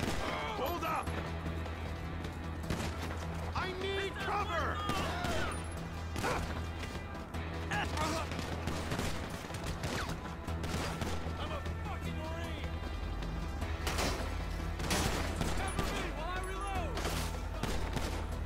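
Heavy gunfire in GTA 5 during a police standoff, with rapid bursts, crashes and impacts going off continuously and loudly, mixed with shouted voices throughout.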